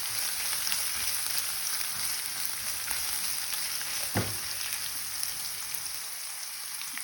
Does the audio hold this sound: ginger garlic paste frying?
yes